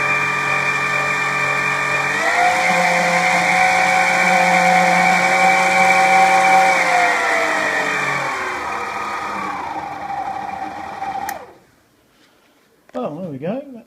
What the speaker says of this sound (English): we all know the noise of a Kenwood gearbox